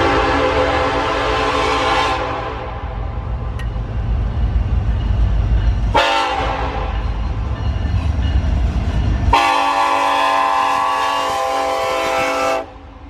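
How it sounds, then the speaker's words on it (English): A loud freight train rolls past close by at a crossing in Gainesville, Georgia, its horn blaring in long blasts over the continuous rumble and clatter of wagons on the rails. "heard off in the distance the unmistakable sound of a freight train headed our way"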